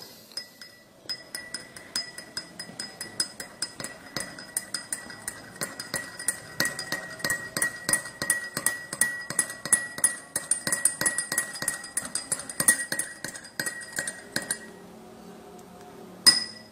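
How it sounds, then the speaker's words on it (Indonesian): Spoon stirring Vietnamese drip coffee with milk, made with robusta from Curup, in a glass: rapid repeated clinks of metal against glass for about fifteen seconds, then a lone final tap. "Kemudian ini tinggal kita letakkan di piring lalu diaduk."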